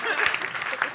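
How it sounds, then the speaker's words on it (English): An audience breaks into applause at a live show, a dense wash of clapping that stays fairly steady through the brief moment, close and moderately loud. "Please give them a big round of applause."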